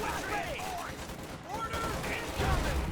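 Company of Heroes 2 tank battle with bazookas firing on a Panzer IV amid rattling gunfire and explosions, dense and continuous, with a voice talking over the combat.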